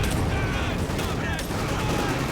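Dense, continuous battle gunfire from a Panzer 4 tank in Company of Heroes 2, rapid overlapping shots and explosions filling the scene with a steady roar, loud and close throughout.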